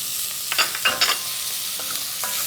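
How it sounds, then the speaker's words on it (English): Finely diced celery and carrots cook in a pan with browned mushrooms, giving a steady close sizzle and crackle, with a few light stirring scrapes and clinks over the frying. "Let these cook with your browned mushrooms."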